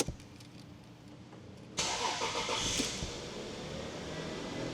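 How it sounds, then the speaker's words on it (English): A 2000 Toyota Aristo 300V Vertex Edition engine makes a cold start. Quiet cabin ambience gives way to the cranking catch at about two seconds, then a brief rev flare that settles into a steady, slightly raised idle, heard close with no talk. "we're gonna go ahead and start this thing up so you guys can hear how it sounds"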